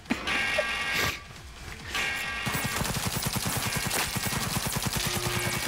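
Shootout gunfire in the video game Cyberpunk 2077, with a few scattered shots and bursts early on giving way to sustained rapid automatic fire, loud and dense with layered game effects.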